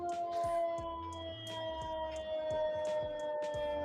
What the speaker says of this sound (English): You can keep hearing these sirens.